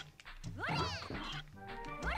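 A cartoonish cat from the video game Tomba! gives two or three rising, warbling meows in quick succession, close and clear over quiet game sounds.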